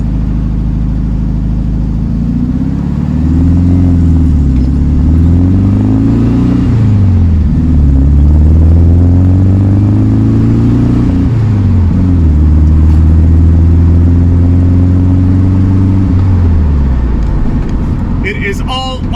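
A 1967 VW Beetle engine, idling high, runs with a deep steady rumble and revs up and down in several rising and falling sweeps, loud and close throughout, with a brief rattle at the end.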